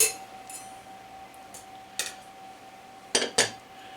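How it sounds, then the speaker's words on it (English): Cocktail shaken with ice, then poured through a Hawthorne strainer and a fine mesh strainer, giving sharp metallic clinks and rattles in short bursts over a faint steady hum. "So it would strain the ice with the Hawthorne strainer, and then this second strainer would catch your smaller particles"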